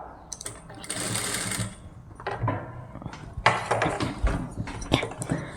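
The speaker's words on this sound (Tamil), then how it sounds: "இப்போ நம்ம மெஷினில் ஸ்டார்ட் பண்ணலாம்." Domestic sewing machine stitching rolled piping onto fabric with a quarter-inch seam allowance, running in close, uneven bursts of rapid mechanical clatter with brief pauses between runs.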